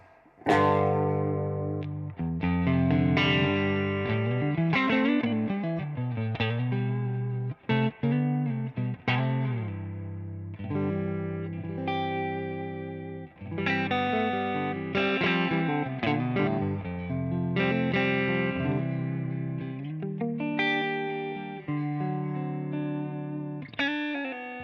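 Heavily distorted electric guitar plays chords and riffs continuously through an amp simulation with an Orange amp model, a processed amp tone, loud and up front, no voices.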